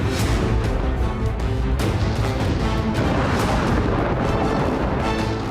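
Dense, continuous rumbling blasts and booms from a Russian RBK-500 cluster bomb strike in Robotyne, many explosions overlapping loudly without pause, heavy low-end roar throughout.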